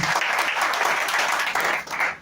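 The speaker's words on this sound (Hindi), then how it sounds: "तो हम चाहेंगे इसके लिए भी एक बार जोरदार ताली मारिए।" An audience at a business presentation on an herbal income plan bursts into loud, dense applause that holds steady for a couple of seconds before briefly dipping and fading.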